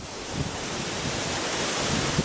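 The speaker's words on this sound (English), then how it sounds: "Most beautiful waterfall in all of Vietnam." A waterfall in Vietnam pours as a steady, dense roar of rushing water, continuous and broadband, with wind buffeting the microphone and no voices.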